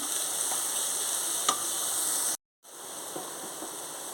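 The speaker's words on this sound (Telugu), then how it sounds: "అల్లం వెల్లుల్లి పేస్ట్ వేగిపోయింది" Ginger garlic paste frying in a pan gives a steady, even sizzle with a few soft ticks and pops, broken by one brief gap of silence before the hiss resumes.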